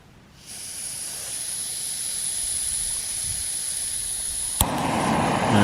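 A steady, hissing sizzle of food frying in a pan on a camp stove builds and holds for several seconds, then a sharp click and a louder burst of frying near the end, outdoors while wild camping.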